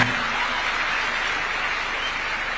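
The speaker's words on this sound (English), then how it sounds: "Another round of applause for His Excellency." A crowd applauds His Excellency William Ruto at a gathering of Affordable Housing graduate interns, a continuous, even roar of clapping held at moderate level from start to finish, with only a faint trace of voice at the very beginning.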